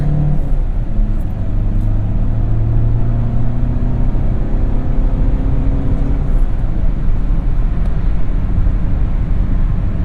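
A 2016 VW Touran with a 2.0L TDI diesel engine and six-speed manual, driving along: a loud, steady engine drone and road rumble inside the cabin, with a low hum shifting slightly in pitch and no talking.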